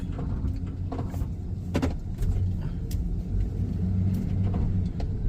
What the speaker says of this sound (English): A lot of traffic through here.